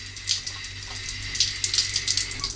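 Tap water runs steadily into a sink during hand-washing with bar soap in a small Tbilisi apartment, a continuous close splashing hiss with brief surges and no talk.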